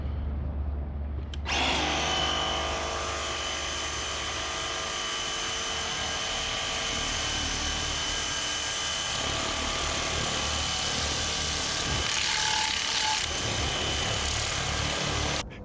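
A DeWalt 20V cordless power cleaner rinsing down a truck, starting abruptly after a brief quiet moment and then running as a steady high whining motor hiss with a spray rush, continuous and fairly close throughout.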